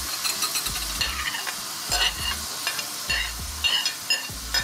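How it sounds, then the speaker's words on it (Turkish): Minced meat and onion fry in a pot, sizzling steadily while a utensil stirs and scrapes it in repeated knocks and scrapes against the pot, close up, with no talking. "Karıştırarak yavaş yavaş pişiriyoruz."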